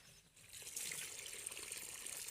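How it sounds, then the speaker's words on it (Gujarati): Water running from a tube well tap, a steady close splashing gush with no pauses for a couple of seconds. "તો પાણી આવતું છે હમણાં બતાવું તમને"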